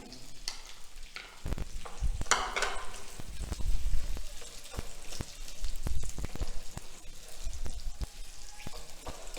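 Boiled potato cubes tossed with cumin in a hot pan, sizzling and frying steadily with repeated scraping and stirring strokes, near and alone without voices.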